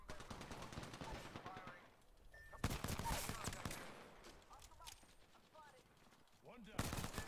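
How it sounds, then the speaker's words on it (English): Rapid bursts of automatic gunfire in a competitive online shooter, dense volleys hitting the player, with a quieter stretch in the middle and a final flurry, mixed with game effects and a talking voice. "Gunshots fired and they're hitting me"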